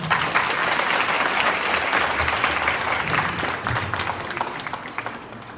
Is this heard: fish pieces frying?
no